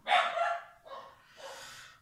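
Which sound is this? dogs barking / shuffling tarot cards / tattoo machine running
dogs barking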